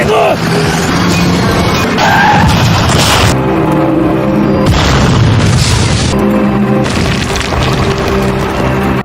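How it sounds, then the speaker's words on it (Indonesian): A car explodes into a fireball after a truck slams into it from behind in an action film, heard as loud, dense booming blasts and crashing debris over a full mix with some voices. "Mobil pun kemudian meledak dalam kobaran api."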